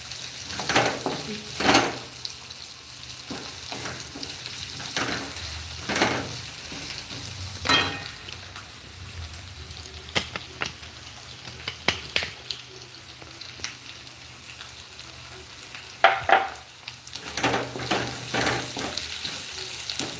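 Boiled potatoes for sabudana khichdi are stirred in a pan, giving a soft sizzle beneath repeated scraping strokes of a spoon against the metal, with sharper clinks every few seconds across a quiet, close kitchen.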